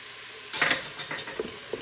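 Garlic gets stirred in a sauté pan, a utensil scraping and clinking against the metal over a light sizzle, with a few short, close knocks after a sudden start.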